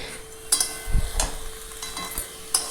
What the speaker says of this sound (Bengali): এই মশলাটির মধ্যে ভালো করে নাড়িয়ে এটিকে কুক করে নিতে হবে